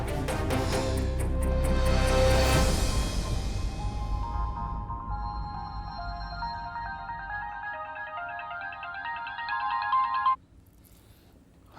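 A telephone ringtone from a Hindi TV drama episode plays a loud, bright repeating electronic melody for about ten seconds, then cuts off, leaving quiet room tone.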